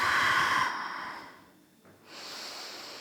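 A person breathes during an Ashtanga yoga exercise: a long, loud exhale fades into quiet, then a steady, softer breath through the nose follows, close up and alone.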